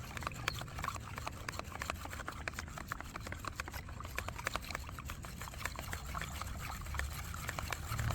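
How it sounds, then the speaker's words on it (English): Rice stirred in a container with a liter of water gives a continuous, fairly quiet swishing and sloshing with small clicking ticks throughout, close and alone. "Stir it thoroughly to release starch and helpful microbes from the rice."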